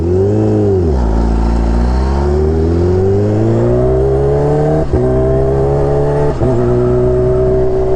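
A Kawasaki Ninja H2R motorcycle engine pulls hard under load during riding, a loud close drone rising steadily in pitch, dipping briefly and climbing again, with two short gear-shift breaks.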